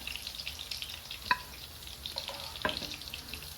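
Faint, quiet frying of sea bass fish balls with kashar cheese in oil that has been turned off, a soft crackle with a couple of sharp pops.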